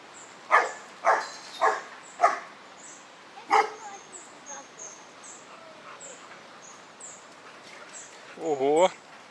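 Several dogs bark in a quick series beside a road between Baie Lazare and Takamaka on Mahé, Seychelles, the loud barks fading into yips and a whimper near the end, with birds faintly behind.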